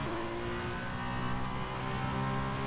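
An F2 race car engine in the video game F1 2021 drones steadily at high revs, a continuous loud, buzzing whine holding a near-constant pitch with no talk.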